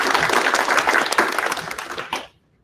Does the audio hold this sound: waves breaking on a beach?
no